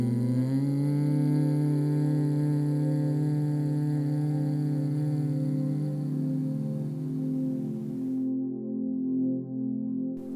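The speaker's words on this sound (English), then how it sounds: "Exhale slowly in a controlled manner while making a deep, steady humming sound such as that of black bee." Deep, steady humming of Bhramari Pranayama breathing, a bee-like drone made by a person exhaling slowly during yoga practice. The close, sustained tone holds for about eight seconds, then fades into a softer hum.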